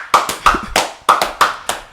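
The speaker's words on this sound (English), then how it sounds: "Let's give him a round of applause here." Hand claps in a podcast studio, about seven sharp, separate claps in an uneven rhythm over two seconds, close and fairly loud, with no talking.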